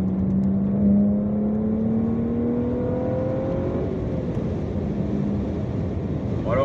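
A BMW 135i M Performance being driven, its engine droning steadily from inside the car with a rising pitch as it accelerates, under constant road and cabin noise.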